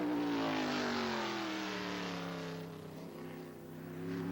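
Trans Am race cars at Mosport roaring past close by, a loud engine note that holds high, dips briefly as the cars move away, then swells again.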